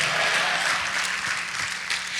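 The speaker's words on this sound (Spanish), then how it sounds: "Denle palmas al Rey, hermano" A church congregation claps for the King during a Tuesday worship service, a dense steady round of applause filling the room, fairly loud and continuous without speech.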